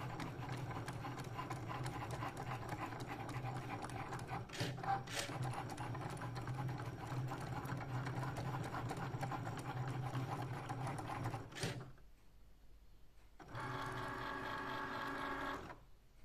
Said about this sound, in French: et là ça va découper les deux autres cercles